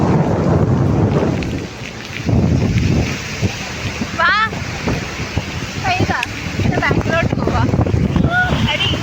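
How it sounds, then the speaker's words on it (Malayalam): Rain falls on Benaulim beach in Goa, a dense hiss mixed with gusty wind buffeting the microphone, while people talk and call out nearby throughout. "നല്ല അടിപൊളി മഴ."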